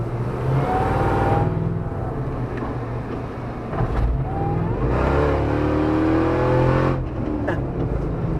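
An 8-speed Chevrolet Camaro driving past, its engine revving up and falling away in several surging waves, loud and close with rising whines between the swells.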